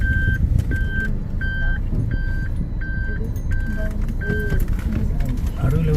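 Reversing beeps from a vehicle backing up in a street in Jaffna, seven evenly spaced tones over a rumbling engine and busy traffic noise, with people talking nearby.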